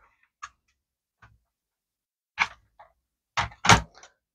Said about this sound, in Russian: Вставили клавиатуру направляющую. Здесь она зафиксировалась.